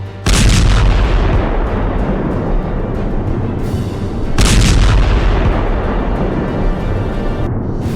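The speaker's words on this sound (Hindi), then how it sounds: "इजरायल की सेना ने भी मोर्चा संभाला और जवाबी कार्रवाई करते हुए लेबनान की तरफ ताबड़तोड़ मिसाइलें दाग दी" Heavy booming blasts of missile fire in the Israel–Lebanon conflict, two loud thunderous volleys with long rumbling tails that fill the whole stretch.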